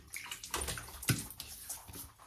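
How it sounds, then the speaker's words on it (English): Water splashing and sloshing as a face is wetted before a shave with a vintage Gillette Senator razor, a continuous close wash of splashes with a sharper splash near the middle. "Wet the face here."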